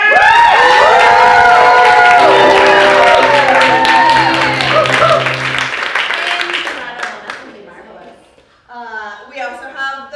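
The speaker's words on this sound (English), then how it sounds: "the uproarious, loving applause of loving people" An audience at a live comedy game show bursts into loud cheering, whoops and clapping, with voices shouting over it before it thins out and fades.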